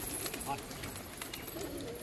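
Pigeons coo faintly nearby, soft low murmuring calls barely rising above a steady background hiss.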